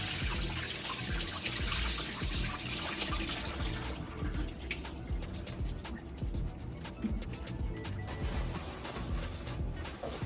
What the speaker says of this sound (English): I'm about to walk over to the sink and drain the shrimp